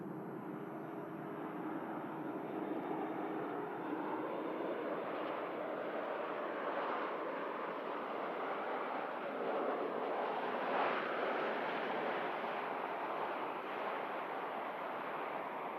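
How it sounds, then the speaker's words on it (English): A Ryanair Boeing 737 MAX 8200 landing at Manchester Airport sends a faint, distant broadband roar across the whole stretch, swelling slightly midway, with no voices. "Great touchdown from the Ryanair."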